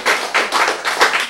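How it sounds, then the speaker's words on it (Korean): An audience claps in a few rhythmic bursts of close, loud hand claps that swell and ease across a short stretch, with no talking over them. "이럴 때 박수를 치지."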